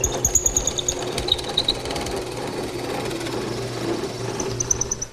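A drill press boring into walnut, a steady close mechanical whir with rhythmic thumping and faint high whine throughout, no talk.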